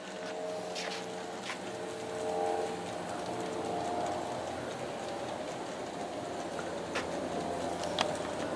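A BNSF G scale model train of 18 cars runs down a grade on an outdoor layout, a steady rolling rumble with light clicks from the track, moderately near and alone.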